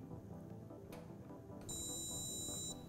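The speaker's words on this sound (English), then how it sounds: "Once you do, it will make a slight beep" A short, steady electronic beep from a Skytech fireplace remote receiver box (SKY-3301P2) sounds near the end, high-pitched and fairly faint, after a quiet click and low background hum.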